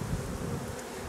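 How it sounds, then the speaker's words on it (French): Honeybees buzzing steadily around an open beehive while a super is being added, a dense, close, continuous hum with no talk. "Fais attention de ne pas écraser l'abeille"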